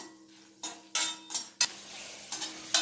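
Coriander seeds dry-roasting in a pan, stirred and tossed so they scrape and rattle against the metal in several short bursts with quiet gaps between.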